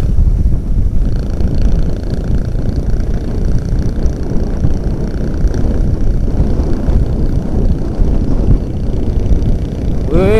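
A Kawasaki Binter Merzy motorcycle engine runs with a deep, steady, rapid low throb, loud and close, mixed with wind buffeting from riding along.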